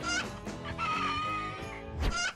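Thai Pradu Hang Dam black-tailed chickens cluck and call repeatedly on a farm, close and fairly loud, with no talking over them.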